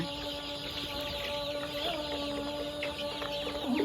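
Brown Cock broiler chickens cluck softly in a poultry shed, scattered short calls over a steady mechanical hum and faint background chatter.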